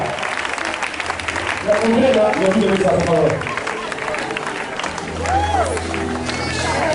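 Church crowd applauding and cheering for Jesus, a loud sustained wash of clapping and voices with a swell of cheering midway, while chanting and talking continue over it.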